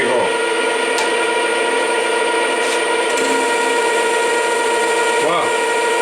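A Schaublin lathe takes a half-millimetre cut on a variator shaft, making a steady machining whine with a sustained tonal hum and faint scraping, loud and continuous, with someone talking over it.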